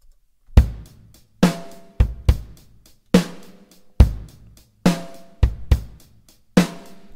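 A programmed drum pattern on a triplet grid, each of four beats split into three, at 70 BPM: sparse, punchy kick and snare hits with decaying tails in an uneven swung rhythm, loud and alone.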